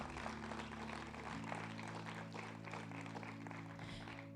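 A church congregation applauds during a Spanish-language sermon on faith, a steady, fairly soft wash of clapping that runs the whole time over sustained organ or keyboard chords.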